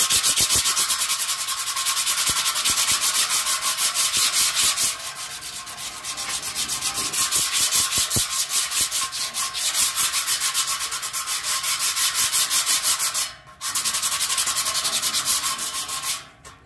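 Steady scrubbing and rubbing on a rusty metal terrace garden stand, a continuous loud abrasive rasp with short pauses near the middle and end, and no talking.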